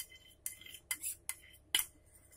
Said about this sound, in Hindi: इसके ऊपर भी थोड़ा सा बटर लगा देंगे इस तरीके से